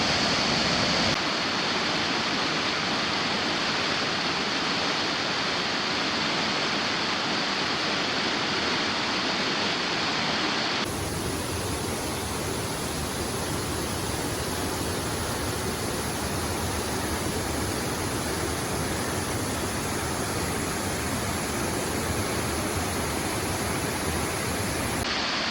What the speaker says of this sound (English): we made it to the waterfalls